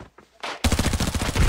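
Gunfire in the video game Arena Breakout: a few faint shots at first, then a loud, rapid burst of automatic fire that continues to the end, close and punchy.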